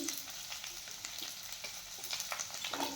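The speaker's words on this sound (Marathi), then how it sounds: "आपण आता हे छान सर्व भाज्या तळून घेऊयात" Cauliflower, capsicum and carrot frying in a pan for veg Kolhapuri, a quiet continuous sizzle with a few light stirring scrapes toward the end, no talking.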